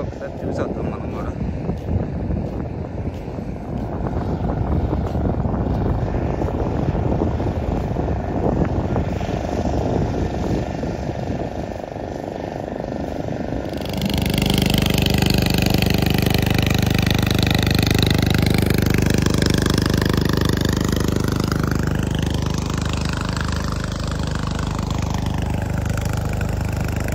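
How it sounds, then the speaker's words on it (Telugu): Motor fishing boats come in toward Bandaru beach, a steady engine drone mixed with wind buffeting the microphone, growing fuller and louder about halfway through and holding close for the rest. "స్లోగా పడవలు అయితే ఇటు వస్తున్నాయి"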